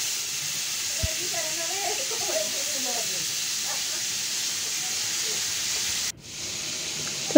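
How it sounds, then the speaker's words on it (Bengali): Koi fish fry in a pan on a stove, giving a steady, even hiss of hot oil throughout, with someone speaking briefly over it before the sizzle cuts off abruptly and then resumes. "এখানে মাছ ভাজা বসিয়ে দিয়েছি"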